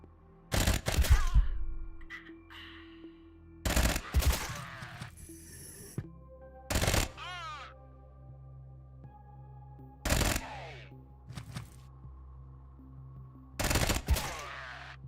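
Bursts of gunfire from the tactical shooter Quasimorph ring out in four or five loud clusters spaced a few seconds apart, with shorter cracks and faint ambient hum between volleys.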